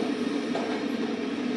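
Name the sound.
train running while being driven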